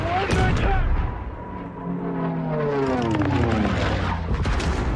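Gunfire and artillery open up in a Korean War combat scene pitting American forces against Chinese troops, with fighter-bombers overhead: sharp, loud blasts and booms, followed by whining engine-like tones that sweep up and down, close and continuous.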